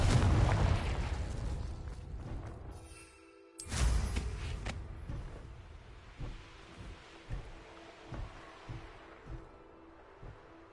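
A video game Confringo fire spell detonates with a loud blast and roaring burst, cuts out briefly, then erupts again into a long rumbling wash that fades through several smaller pops.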